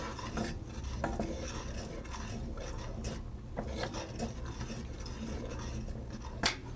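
A spoon stirs white turkey chili in a pot, scraping and clinking against the sides in a steady run of soft rubbing strokes, with one sharper knock near the end and no voices.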